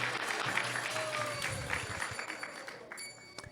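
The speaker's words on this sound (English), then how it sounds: "Let's give him a round of applause." An audience at an ISKCON temple gathering claps in a sustained round of applause that gradually thins out toward the end, fairly quiet and roomy, with faint tonal sounds mixed in.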